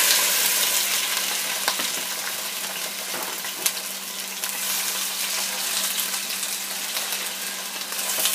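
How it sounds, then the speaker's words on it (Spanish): Chicken frying in hot oil for a chicken and vegetable pasta soup, a steady close sizzle with a few soft knocks of a utensil. "ya el aceite ya está caliente. Entonces ya le agregamos el pollo"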